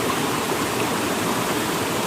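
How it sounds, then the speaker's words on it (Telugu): Dalasari waterfall deep in the forest at Mandasa, Srikakulam, a steady, full roar of rushing water that fills the whole scene without pause. "అందులోనేమో జలపాతం"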